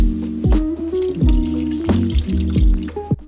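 Water pours from a tap into a cooking pot of orzo on the stove, a close, bubbling gush with shifting pitch over a few seconds.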